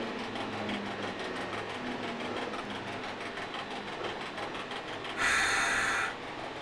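An MOB 8000 series electric locomotive on the Swiss Golden Pass line sits with its force-ventilated traction motor fans whirring steadily under a faint rhythmic hum, broken near the end by a short, loud burst of hiss.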